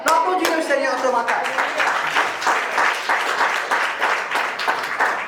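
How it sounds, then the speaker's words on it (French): A church congregation claps for the Lord during a morning service, the clapping building into a steady rhythmic beat after a voice speaks briefly at the start. "L'applaudissez le Seigneur ce matin."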